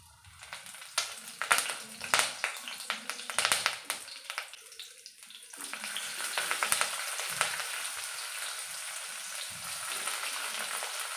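Cumin seeds and curry leaves sizzle in hot oil in a pan, starting with sharp crackling pops and spits over the first few seconds and then settling into a steady, dense frying hiss. The sound is close and has no speech over it.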